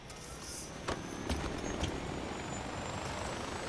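A helicopter in the Far Cry 4 video game gives a steady, rumbling rotor and engine drone with a few soft thumps, holding at an even level throughout with no clear talk.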